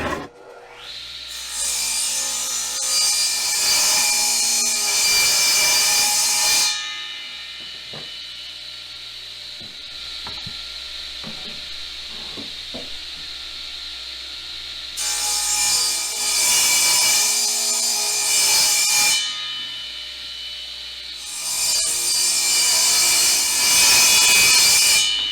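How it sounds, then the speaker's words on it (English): A saw rips a wooden board lengthwise to clean up a rough edge for a Dutch-style cheese press, loud sustained bursts of cutting alternating with quieter pauses and clatter, no talking. "I'm going to go ahead and rip this down a little bit so I can get me a nice clean edge"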